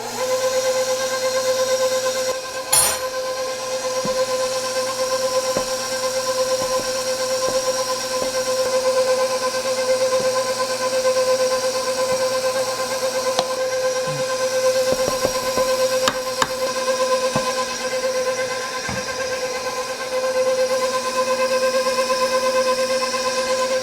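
A big stand mixer beats sour cream pound cake batter with a constant, steady motor hum and whir. It runs alone and unbroken, with a few faint clicks and knocks against the bowl.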